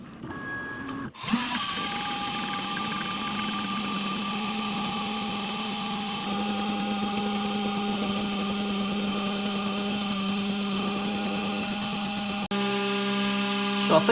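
Makera Carvera Air desktop CNC drilling holes in a copper-clad PCB with a cone bit, a steady high spindle whine with tonal harmonics running continuously after a brief start, shifting pitch near the end; no talk.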